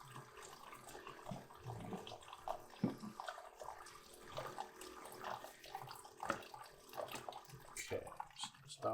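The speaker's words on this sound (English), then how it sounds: "I get a nice stream going so that I can make sure I have a full." Tap water runs in a steady stream into a container, a continuous splashing hiss at moderate level with small gurgling bursts, heard alone without talk.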